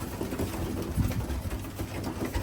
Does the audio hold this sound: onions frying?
no